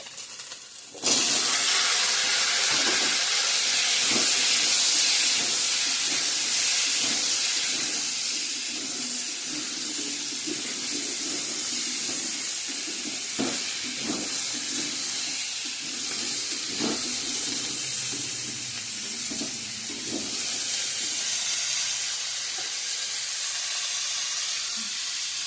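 Mixed vegetables hit a hot pan with ginger for a Bengali mixed vegetable dish, giving a loud, steady steaming hiss and sizzle that settles after a few seconds, broken by scattered clanks of a utensil, with no talking.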